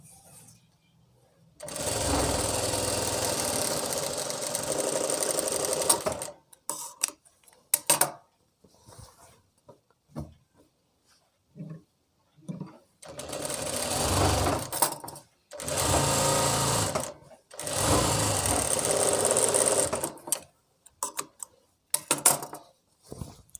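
Sewing machine stitching palazzo pants in bursts: a long continuous run, then short stop-start stitches, then two more steady runs separated by brief pauses.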